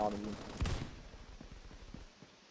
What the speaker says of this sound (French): Oh le fusil à pompe silencieux là.